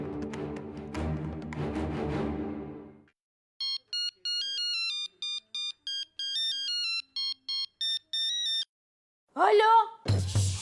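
A mobile phone ringtone plays a bright, repeating electronic melody in short bursts, following a stretch of music and preceded by other tones, heard clearly and close.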